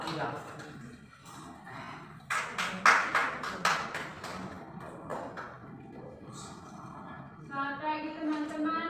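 A classroom of primary school students gives a short burst of scattered hand claps for a student group after its presentation, with voices talking before and after.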